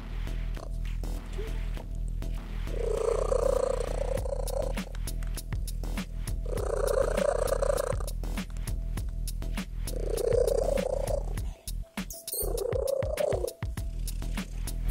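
A thirteen-year-old English cat with a record-breaking loud purr, close and steady, rising and falling in long rhythmic bursts with each breath, a low rumble running alone throughout.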